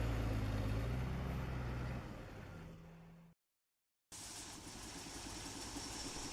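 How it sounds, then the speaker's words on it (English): A heavy Kraz truck stuck deep in slippery mud on a logging route, its engine droning low and steady with wheels spinning. The sound cuts out briefly to silence, then the rumble returns. "A heavy Kraz truck becomes deeply stuck in slippery mud, its wheels spinning helplessly on the soaked ground"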